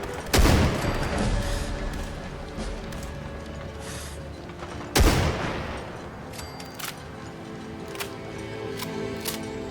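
Turrets firing in the video game Fallout 4: two sharp, loud blasts a few seconds apart, each trailing into a long rumbling decay, with lighter clicks and shots scattered around them.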